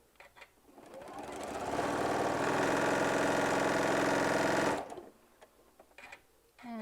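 A sewing machine runs in one steady burst of roughly three seconds, a close mechanical whir and hum while stitching quilt fabric pieces for a hummingbird panel, with brief handling noises before and after.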